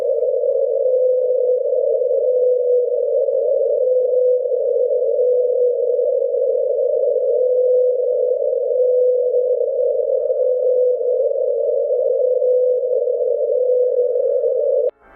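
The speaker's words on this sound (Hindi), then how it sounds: "अब आप खुद सुनिए 52 हर्ट्ज व्हेल की आवाज को।" A single sustained low tonal hum, the 52 Hz whale call, drones continuously and evenly, unbroken for its whole length, then stops suddenly at the end.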